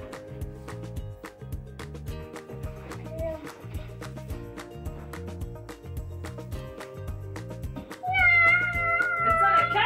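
A child imitates a cat with a short, high, wavering meow near the end, heard over rhythmic background music.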